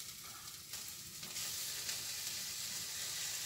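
Vegan mince sizzles steadily in a frying pan with grilled vegetables, a close, continuous crackling hiss that grows a little louder as it is stirred.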